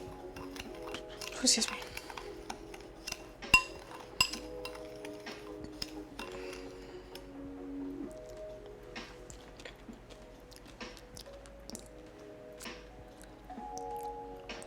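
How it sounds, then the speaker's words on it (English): A spoon clinks and scrapes against a pot while stirring a cooking dish, faint scattered taps over a low steady hum, with a person briefly speaking nearby. "I'll give it a stir."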